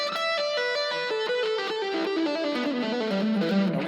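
Distorted electric guitar plays a pentatonic sequence on the top three strings, a run of quick, evenly spaced notes stepping steadily downward, loud and alone.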